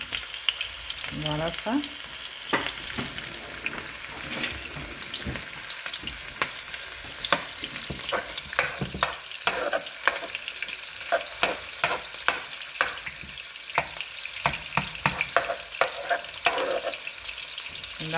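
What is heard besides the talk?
onions frying and being stirred in a pan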